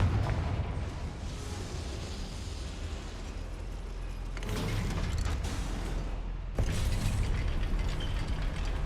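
A wooden goblin mine lift in Hogwarts Legacy creaks and grinds with a steady mechanical rumble, growing louder in two surges toward the end, with no talking.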